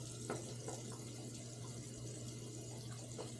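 A tap runs water for a pre-shave as a steady, faint hiss with a low hum underneath, and a few soft splashes are heard throughout.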